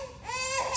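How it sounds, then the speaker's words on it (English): A baby whines faintly in the background for under a second, a thin rising cry with no one speaking over it. "You can hear the baby in the background."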